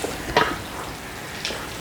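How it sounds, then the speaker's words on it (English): Chili mac gets stirred in an Instant Pot, a brief thick scrape and soft sizzle with a couple of short spoon strokes, fairly close and with no talking. "The recipe says to stir it."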